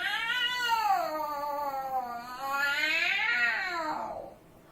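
A cat lets out a long, drawn-out, wavering meow that rises and falls twice, loud and close, then trails off.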